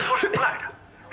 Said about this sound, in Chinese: 怎么又咳嗽感冒了吧？